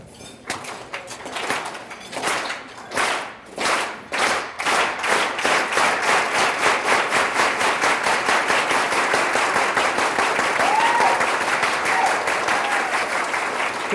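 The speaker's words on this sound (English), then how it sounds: "So I want you to do that clap with me." Crowd at a 2018 César Chávez celebration claps together in a unison rhythm, slow, spaced claps at first that speed into a fast, steady, dense pattern, loud and close, with no talk over it.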